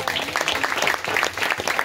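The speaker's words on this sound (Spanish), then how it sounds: "Un fuerte aplauso." Dense applause from a church congregation, rapid overlapping claps sustained throughout, fairly close and loud.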